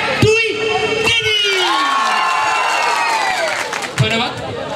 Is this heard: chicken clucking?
no